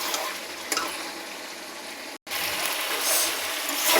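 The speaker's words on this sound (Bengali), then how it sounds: "এবার ভাজা মশলাটা দিয়ে দেবো, দিয়ে আবার একটু নাড়াচাড়া করে একটু ঢেকে দেবো।" A pan of mixed vegetable curry with fried spices gives off a soft, steady sizzle and faint stirring rustle, broken by one brief click and a momentary dropout before the frying noise resumes a little louder.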